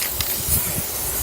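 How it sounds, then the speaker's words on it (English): Spray glue hissing from an aerosol can, a steady near hiss running about a second with a few brief spurts and no talk over it. "I'm gonna go ahead and spray the whole thing"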